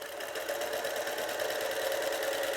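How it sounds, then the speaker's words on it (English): A Juki sewing machine stitches a quilt with a continuous, even mechanical whir and rapid rhythmic needle pulse, close up and uninterrupted. "The stitch quality is really good, and I like the way it sounds"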